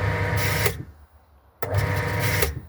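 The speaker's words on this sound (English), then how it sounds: "there's the pump having a little go just to" A water pump in an Overlander HGV washing machine setup runs in two loud whirring bursts, close by, separated by a short quiet pause.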